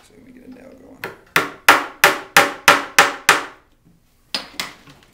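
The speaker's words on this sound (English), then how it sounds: "Decided to use a hammer and nail because I'm assuming that's what most of you are going to be using." A hammer drives a nail into wood while a bookcase is being built: a few light taps, then about seven hard, evenly spaced blows, a pause, and two more strikes, close and loud with no talk.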